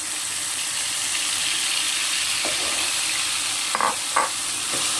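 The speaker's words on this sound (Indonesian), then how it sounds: "sambal yang tadi kita goreng dengan masukkan daun jeruk, masukkan cabai" Sambal with lime leaves and chili frying in a pan, a steady sizzle with a few scraping stirs near the end, close and without talk.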